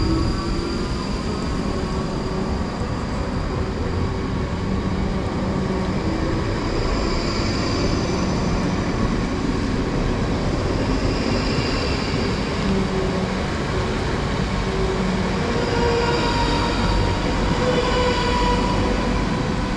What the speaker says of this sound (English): departing out now is the pair of 458s heading out to Reading